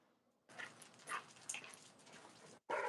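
A dog whimpers and yips in short bursts nearby, followed by a sharper bark at the end.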